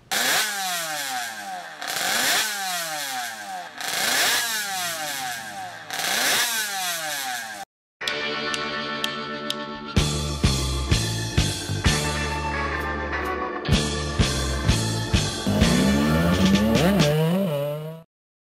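A Morbidelli two-cylinder rotary-disc GP racing motorcycle engine, rated to 14,000 RPM, revs hard in repeated sharp bursts, then screams at high pitch with rapid throttle blips, loud and close throughout.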